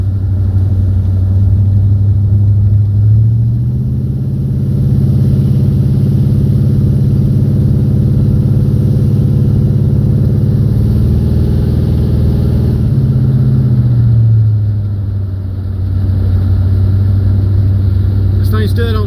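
Engine of a 1975 Corvette or 1985 Suburban on a country road, a steady low rumble that rises and falls as it shifts gears, loud and continuous throughout.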